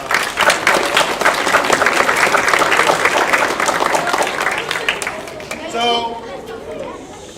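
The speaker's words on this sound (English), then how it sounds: "Give them a round of applause." At a beginner band concert, the audience applauds with full, busy clapping and some crowd chatter for about five seconds. The applause then fades out as a voice begins speaking near the end.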